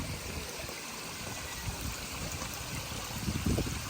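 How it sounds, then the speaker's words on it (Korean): Water stream flowing during a trip to Jeonju, a steady low wash of running water heard alone at a modest distance, with faint trickling texture throughout. "물소리 들으면서"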